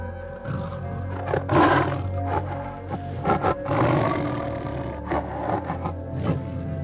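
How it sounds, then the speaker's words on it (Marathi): A big cat growls low and rough, with a few rumbling snarls that swell and fade against a quiet background. "बिबट्या हेडलाईट्सच्या उजेडात गाडीकडे पाहत गुरगुरत उभा राहिला"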